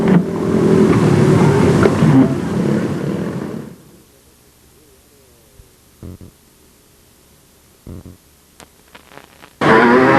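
Modified race cars roaring loudly around a speedway oval, a dense engine blare for the first few seconds that fades away, then near quiet with a few brief thumps before the roar returns abruptly.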